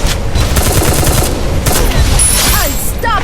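Rapid bursts of sniper rifle gunfire from a mobile shooter game, loud and close, firing in quick clusters with a few sharp whooshing sweeps near the end.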